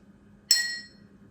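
A single light tap on an empty drinking glass gives a bright, high ringing ping that fades out within about half a second.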